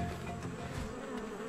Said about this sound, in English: Mosquitoes! No!